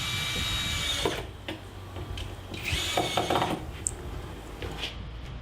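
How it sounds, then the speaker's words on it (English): A ratchet turning screws to fasten handles onto a homemade wooden cabinet: repeated clicking and grinding tool strokes in short bursts, close and fairly loud, with no talking. "And screwing the handles on now."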